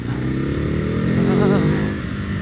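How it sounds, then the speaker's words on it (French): A Ducati Hypermotard 1100 motorcycle engine idles and revs loudly up close, with its dry clutch rattling steadily throughout. "L'embrayage à sec, ça te met dans le bain direct."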